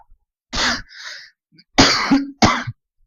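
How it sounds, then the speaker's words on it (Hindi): A lecturer coughing close to the microphone in a classroom: a hard cough, a shorter softer one, then two more forceful coughs in quick succession, with no talking. "सॉरी थोड़ा खांसी पकड़ी है।"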